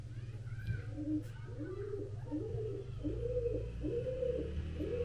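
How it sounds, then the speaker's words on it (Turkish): Pigeons coo in a steady rolling series of low, throaty calls, fairly close, over a constant low hum, at Nizam al-Mulk's historic bird tower. "Güvercinin sesini duyuyor musunuz?"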